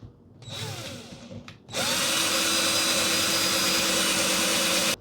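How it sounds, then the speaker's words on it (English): A power drill with a damaged bit boring a hole while hanging grow lights: a brief first whir, a pause, then a loud steady high-pitched drilling whine held for about three seconds before stopping. "So I'm gonna go ahead and drill into it"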